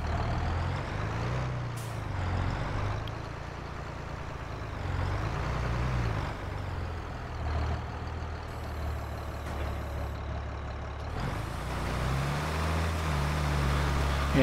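A tractor of about 100 horsepower pulling a light planter across a field makes a steady, close, low engine drone that rises and falls slightly, with a brief hiss and a faint high beep partway through.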